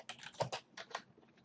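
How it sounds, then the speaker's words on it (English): Quick, light clicks of fingers typing on a computer keyboard come in an irregular burst, close and quiet with no voices. "delete this URL and come in and type something like"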